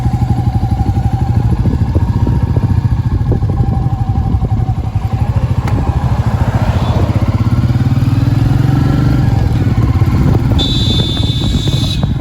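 A Royal Enfield Meteor 350 motorcycle engine runs at a steady, close, loud thumping idle throughout, with no talking.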